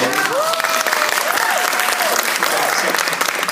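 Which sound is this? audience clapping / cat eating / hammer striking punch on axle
audience clapping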